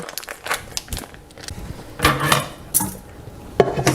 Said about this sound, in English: I'm going to put the trivet in there first, since these have some juice on them.